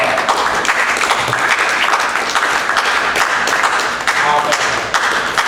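A church congregation at Saint-Malachie claps together in loud, sustained applause, sharp hand claps packed densely with a few shouts mixed in, continuing evenly from start to end.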